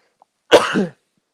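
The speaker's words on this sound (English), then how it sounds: "my cough is driving me nuts" One short, harsh cough bursts out close by in near silence, then stops.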